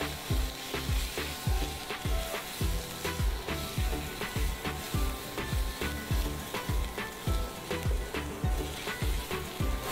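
Ginger, garlic paste and spices sizzle in oil in a pan while being stirred, a loud steady fry with regular scraping strokes of the spoon about twice a second, close and without talk.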